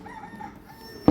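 A brief, tinny electronic rooster crow plays from a Mis Talking Pen's small speaker, rising into a louder burst at the very end.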